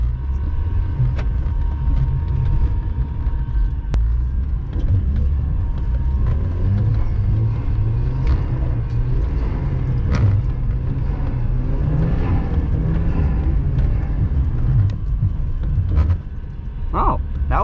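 A Volkswagen Golf R MK6 with all-wheel drive and traction control switched off is driven hard, giving a steady loud low engine and road rumble throughout, with faint talk over it.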